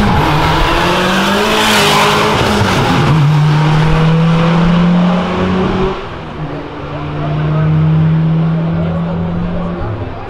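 A Volkswagen Saveiro pickup arrives at a drag race event among louder performance cars. Engines drone with drawn-out tire squeals and revving close by while people talk in the background.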